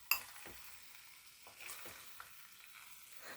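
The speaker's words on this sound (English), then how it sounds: "It sounds like it's sizzling down there" Ribs sizzle in an oversized pot in a slow cooker set on high, a faint, steady frying hiss with a few soft stirring knocks and clicks, heard alone.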